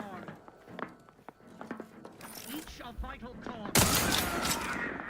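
Gunfire in the video game The Outer Worlds 2, a rapid clatter of mechanical, metallic shots and impacts that builds to a loud sustained burst of fire, with a voice speaking early on.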